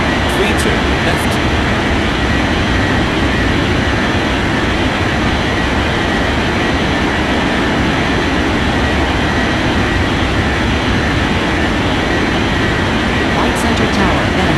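Airplane taking off in the game Unmatched Air Traffic Control, a loud, steady broadband engine roar with a low rumble that holds evenly throughout.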